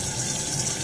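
Hot tap water gushes steadily from a faucet as an exfoliator is rinsed out, a brief, even hiss of running water.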